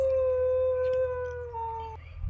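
A dog howls in one long, sustained, wavering cry, close and fairly loud, with no barking evident.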